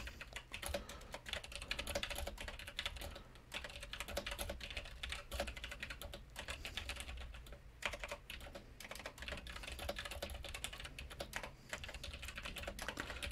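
Steady, dense keystrokes on a computer keyboard as an email is composed, close up and continuous for several seconds, with only brief gaps and no talking.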